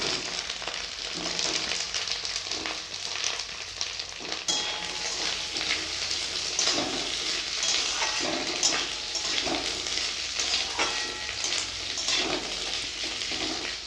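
Cut potatoes dropped into hot oil in a pan for a home-style Bengali posto curry with spring onion and flat beans, a steady loud frying sizzle with stirring scrapes throughout, no talk.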